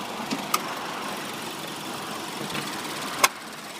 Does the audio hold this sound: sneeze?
no